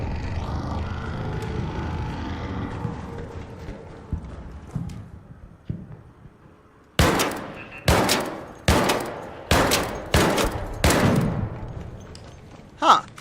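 Automated turret in the video game Arc Raiders firing a series of about six sharp, evenly spaced loud bursts after a stretch of quieter rumbling gunfire and thuds.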